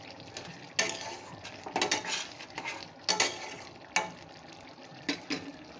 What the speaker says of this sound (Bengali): পোস্তটা আমি এই যে দিয়ে দেব। দিয়ে ভালো করে নাড়াচাড়া করে দেব।